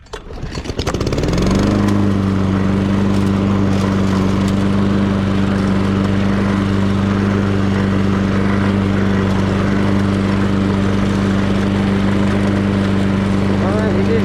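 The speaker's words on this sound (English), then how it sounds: "Okay, so we're gonna get the mower." A lawn mower engine starts and then runs at a loud, steady drone close by, droning on without pause, while a voice is faintly heard beneath it.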